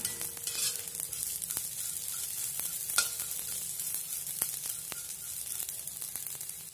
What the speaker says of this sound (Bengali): এখন সেবইগুলা ঢেলে দিচ্ছি, ভেজে নেব ভালো মতন, লাল লাল করে সেবইটাকে ভেজে নেব।